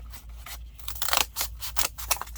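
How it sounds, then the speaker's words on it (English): Scissors snip through paper or card while someone makes library pockets for a junk art journal: a quick, uneven series of crisp, close cuts in a quiet room. "Let me get my scissors out."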